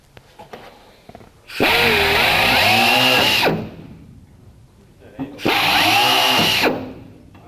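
A power drill whirs in two separate bursts of about two seconds each, close and loud, with quiet pauses between them, during a Rotax 912S engine installation on a Zenith CH701 aircraft.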